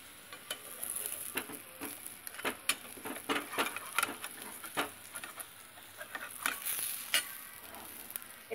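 Split pea paste shaped into a large fritter frying in mustard oil, giving a steady, busy crackle and patter with frequent sharp pops and light scraping, close up, with no talking.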